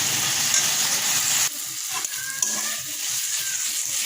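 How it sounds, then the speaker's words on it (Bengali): Ginger-garlic paste with chili and turmeric powder frying with a splash of water, first a loud dense sizzle, then a sudden drop to a quieter crackle with occasional stirring scrapes, no voices. "আদা রসুনের পেস্ট লঙ্কার গুঁড়ো হলুদ গুঁড়ো দিয়ে দিয়েছি সামান্য একটু জল দিয়ে মশলাটা কষাচ্ছি"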